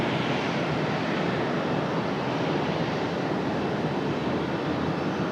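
A brand-new airliner, delivered in January 2026, approaches the runway at Raleigh-Durham International Airport. Its engines make a steady, loud, broadband roar that holds evenly throughout with no voices.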